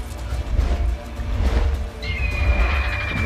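A horse whinnies in The Witcher 3 during a griffin fight, a rising high cry near the end over dense game noise and low rumbling combat sounds.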